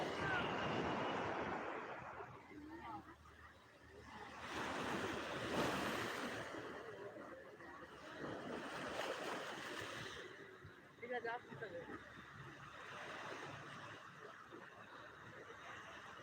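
Sea waves surging and breaking at high tide on Digha beach, a loud continuous wash that swells and recedes, with wind buffeting the microphone.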